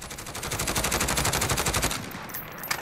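Sustained full-auto burst from a SIG SG 550 rifle in Call of Duty Modern Warfare, a rapid even stream of loud shots for about two seconds, then ending in a short tail with a click.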